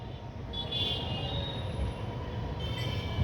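A local train rolls past near Garia railway station, a steady low rumble of rail noise held throughout with faint higher screeching overtones, close and continuous with no voices.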